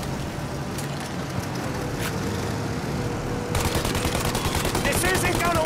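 Rapid bursts of automatic gunfire aimed at a taking-off plane's engines in the video game Mafia: Definitive Edition, loud and continuous over a steady engine roar, growing denser and sharper in the second half.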